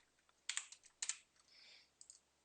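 Typing on a computer keyboard while entering formulas in an Excel spreadsheet, a few quiet, close key clicks in small clusters, no talk.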